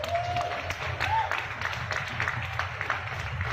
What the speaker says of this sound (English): Please give them a big round of applause, please.